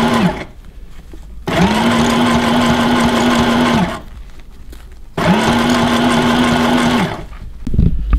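A sewing machine zigzag-stitches close to the edge of a bag lining. It runs in two loud, steady whirring bursts of about two seconds each, with quiet pauses between and no talk.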